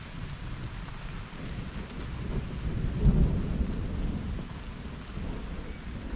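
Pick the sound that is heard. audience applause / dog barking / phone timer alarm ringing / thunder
thunder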